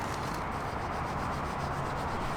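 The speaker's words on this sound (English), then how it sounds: "Let's hit it with the magic eraser, see if that will get the rest of it here." A magic eraser scrubs a car wheel during deep cleaning, a faint continuous rasping rub repeated in quick back-and-forth strokes, heard close up with no talking.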